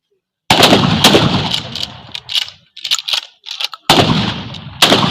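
Rifle shots at a firing practice session, several sharp loud bangs in quick succession, separated by short gaps of quieter rattling, close to the microphone.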